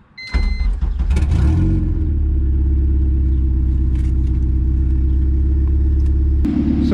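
A car engine cranks and catches on a cold start, then settles into a steady, loud, rumbling high idle through a custom header that holds constant before shifting slightly near the end.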